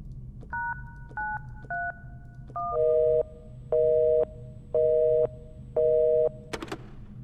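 Electronic phone keypad tones beep one after another as 911 is dialed in a video game, a few short tones then four longer evenly spaced beeps, ending in a sharp click.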